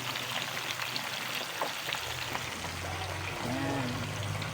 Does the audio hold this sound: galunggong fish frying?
yes